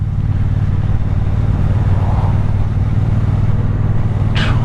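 A Triumph Speedmaster 1200 motorcycle engine holds a steady, loud idle, its low throb continuous throughout with a brief sharper noise near the end.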